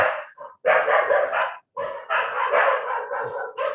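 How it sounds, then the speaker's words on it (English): Dogs in the surrounding area bark in dense, overlapping bursts, loud and fairly close, with short gaps between volleys and no talking. "The little barking you've heard are dogs in the area."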